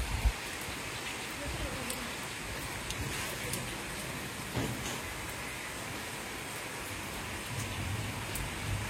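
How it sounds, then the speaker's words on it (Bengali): Steady rain falls throughout as an even, moderate hiss on surfaces nearby, with faint voices in the background. "বৃষ্টি আর বৃষ্টি।"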